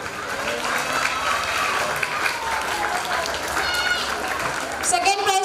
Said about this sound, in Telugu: అన్న వస్తున్నాడు, క్లాప్స్ కొట్టాలి మీరు